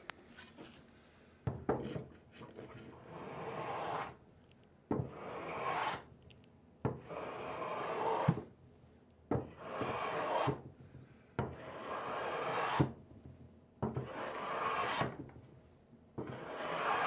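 Hand plane shaving down the side of an antique wooden drawer during repair, eight rhythmic rasping strokes about two seconds apart, each a close, scraping push followed by a brief quiet return.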